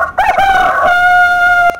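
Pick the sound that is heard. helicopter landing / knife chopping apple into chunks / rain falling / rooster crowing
rooster crowing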